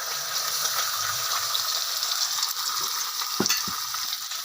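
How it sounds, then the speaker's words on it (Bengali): A duck egg fries in a pan with a steady, close hiss of hot oil and a couple of short knocks near the end, with no one talking. "এখন আমি ডিমটা ভেজে নেব।"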